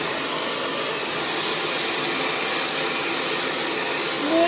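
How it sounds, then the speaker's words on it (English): A hair dryer blasts steadily close by while blow-drying hair, a continuous broad airy whoosh with no break. "pulling that dryer down nice and smooth"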